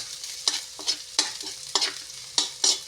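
Garlic sautés in a pan for a Filipino jackfruit dish, with a series of six sharp sizzling bursts as it is stirred and tossed, close and fairly loud over near silence.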